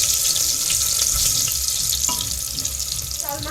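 Potatoes fry with salt and turmeric in a pan, a steady, loud, close hiss of sizzling oil that runs throughout, with a faint clink near the end.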